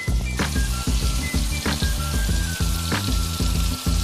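Pieces of veal frying in melted butter in a pan give a loud, steady sizzle with dense crackling and spitting, close and continuous, and no voice is heard.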